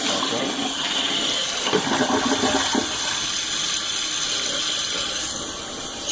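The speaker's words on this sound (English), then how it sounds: "So let's flush it one time." A toilet repaired with epoxy is flushed and refills, a steady, loud rush of water running throughout with a brief clattering of the mechanism partway through, close by and with no talking.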